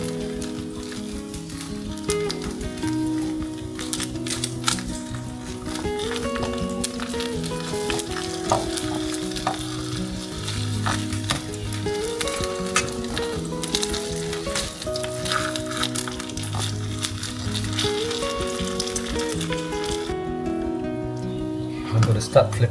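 Spring rolls deep-fry in oil over low heat, making a constant close crackling sizzle with scattered pops that runs the whole time beneath steady melodic background music.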